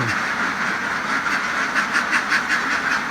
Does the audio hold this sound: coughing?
no